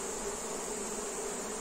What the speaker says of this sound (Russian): Пчела спокойная.